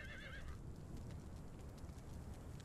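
In the video game Conan Exiles, a restless horse whinnies briefly at the start, then plodding hoof clip-clops sound amid a dense, steady game ambience, with no talk over it.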